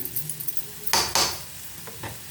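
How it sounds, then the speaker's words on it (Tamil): Egg podimas, Indian-style scrambled egg, is stirred and scraped in a hot frying pan, with soft sizzling broken by two loud close scraping strokes and a couple of lighter ones. "அதை உடச்சி ஊற்றுனதை இப்படி கிளறிட்டே இருக்கணும்"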